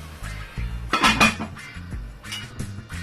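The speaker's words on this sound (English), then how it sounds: "And now I'm going to close the pot so that it can start" Lid set down on a metal cooking pot of Jamaican stew pork, a single bright clatter of metal on metal amid light kitchen clinks, with no talking.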